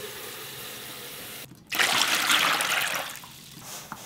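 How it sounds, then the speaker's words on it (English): Salty water for fermenting Korean soybean paste pours steadily into a container, a close, loud gushing stream that starts abruptly and then thins toward the end. "we gotta fill this with salty water"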